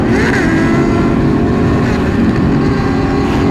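A large group of motorcycles rides fast together on the road, a loud continuous engine roar and droning hum that holds steady throughout.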